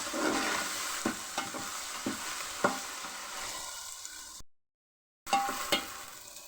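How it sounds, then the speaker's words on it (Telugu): Ginger garlic paste fries in hot oil in a pan for an Andhra-style fish curry, giving a steady soft sizzle. Occasional sharp scrapes of a spoon stir through it, and the sound cuts out briefly before the frying resumes. "2 టేబుల్ స్పూన్లు అల్లం వెల్లుల్లి పేస్ట్ వేసుకోండి ఫ్రెండ్స్."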